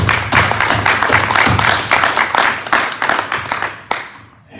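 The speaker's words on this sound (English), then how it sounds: "Have another round of applause." A church congregation applauds for a musician during a Sunday celebration, dense clapping filling the room steadily before breaking off abruptly near the end.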